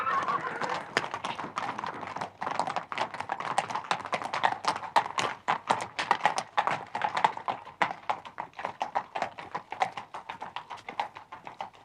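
Steady clip-clop of horse hooves on a hard surface, brisk and continuous, fairly close, with no voices.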